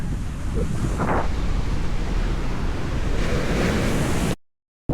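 Ocean surf at Dahican Beach, where large waves roll in, heard as a continuous wash of breaking water mixed with heavy wind buffeting the microphone, loud throughout before cutting out abruptly near the end.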